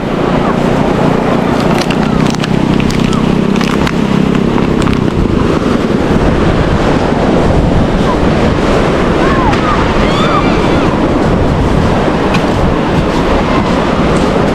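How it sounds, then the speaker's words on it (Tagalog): Steady roar of surf and rushing water fills the scene, loud and close, with wind buffeting the microphone throughout. "Sana tuluyan na lumiit ang alon at gaya na lang siya."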